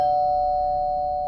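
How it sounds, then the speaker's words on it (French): A single sustained electronic chime from a doorbell, a steady clear tone that rings out alone and slowly decays. "ding dong, quelqu'un qui sonne à la porte"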